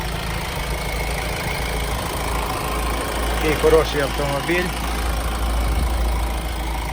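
Idling engine of a 2014 Honda CR-V, a steady low hum running throughout at close range, with someone speaking briefly over it partway through.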